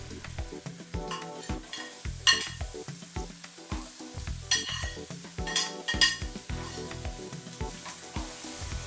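Carrots, green beans and celery stir-fry in a pan for seafood pancit sotanghon, a steady sizzle broken by rhythmic spatula scrapes and metallic clinks against the pan, close and moderately loud, with no voices.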